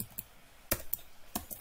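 Keystrokes on a computer keyboard as code is typed, a few sharp clicks spaced irregularly across a short quiet stretch, close and clear.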